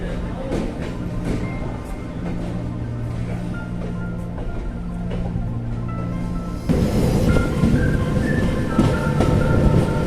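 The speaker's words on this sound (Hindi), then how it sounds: "अभी आपने जो पीछे ट्रेन देखी वो झांसी पैसेंजर थी" A Jhansi passenger train rolling past on the Brahmavart–Kanpur line, a steady rumble of wheels and cars close by that swells louder for the last few seconds, with no talk over it.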